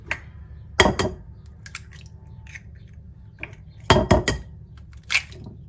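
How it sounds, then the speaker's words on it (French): Three eggs are cracked one after another for a quiche filling. Sharp, close taps of shell against the side of a bowl come in short pairs, with quiet kitchen clatter between them. "Donc, je casse tout simplement les 3 œufs."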